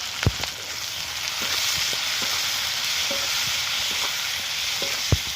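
Tomato masala with green chili, salt, turmeric, red chili powder and ginger-garlic paste frying in a pan for a fish curry, a steady close sizzle broken by a few sharp clanks of a spoon against the pan.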